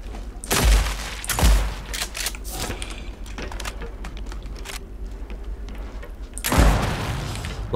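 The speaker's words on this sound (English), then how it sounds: "Fucking satisfying shotgun." Shotgun blasts in the video game Phantom Fury ring out as three loud, booming shots, two close together near the start and one later, with clattering gunfire and mechanical noise rumbling in between.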